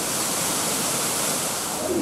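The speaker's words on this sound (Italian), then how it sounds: "Porca miseria l'acqua! Dappertutto! tutta una cascata, guarda lì." Water pours down everywhere in a cascade near Tivoli, a steady dense rushing wash, close and continuous with no break.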